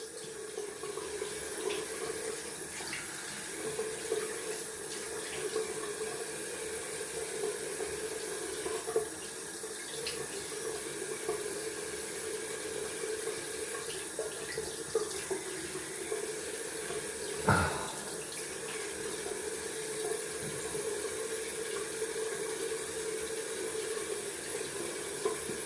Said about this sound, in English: Gonna rinse off cold water.